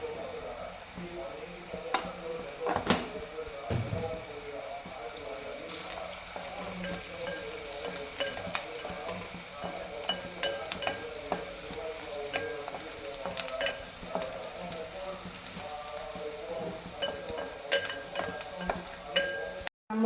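Broken wheat with a pinch of turmeric sizzles and roasts in a frying pan, stirred steadily with a spoon that scrapes and clinks now and then, close and continuous with no talk.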